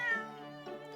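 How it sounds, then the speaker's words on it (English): A cat in the video game The Great Ace Attorney gives a single short, clear meow, close and alone. "Kitty. Oh look, it's Wagahai"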